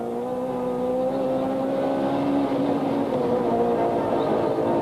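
A Class C Toyota Conquest rally car, privately entered, pounds over rough roads at the Mountain Trail rally in 1993, its engine holding a steady droning note close by, with rumble and rattling from the rough surface underneath.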